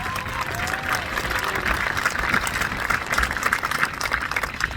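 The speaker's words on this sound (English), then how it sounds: "Please give a warm round of applause for them" Graduation audience at a high school ceremony applauds the vice presidents with sustained, dense clapping throughout, a steady wash of many hands with faint crowd noise underneath.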